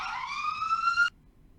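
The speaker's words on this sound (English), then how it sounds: "Siren." A steady electronic siren, like a police or emergency vehicle's, holds a continuous wailing tone for about a second at moderate loudness, then cuts off abruptly into near silence.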